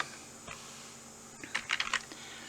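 A computer keyboard being tapped while a formula is typed, with a lone keystroke early on and then a quick cluster of crisp clicks near the end. The clicks are close and fairly quiet over a faint steady room hum, with no voices.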